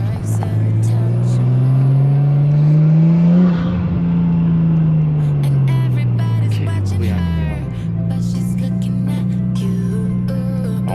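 A Nissan Skyline R33's engine drones loudly from inside the car as it drives. The pitch climbs, then drops through a gear change and settles into a steady hum, with faint clicks over it.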